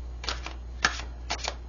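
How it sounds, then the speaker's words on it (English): Fairy oracle cards are shuffled by hand in three quick bursts of soft, papery riffling, close and fairly quiet with brief pauses between them and no voices. "I am going to shuffle and deal you a fairy card"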